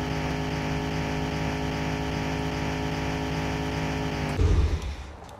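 A car engine in The Long Drive video game drones steadily with a layered, even hum, then gives a short low rumbling burst near the end before easing off.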